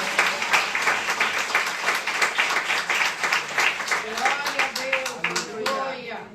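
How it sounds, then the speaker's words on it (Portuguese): Congregation clapping in a church service, steady dense applause throughout with voices rising over it toward the end. "Você pode aplaudir ao Senhor com o seu melhor."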